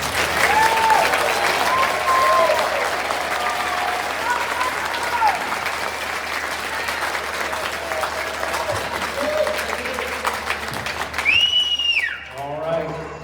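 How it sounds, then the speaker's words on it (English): Students' families at a school band concert give a long, full round of applause that sustains for several seconds, with brief instrument notes sounding over the clapping and a few sharp tones near the end. "one big round of applause"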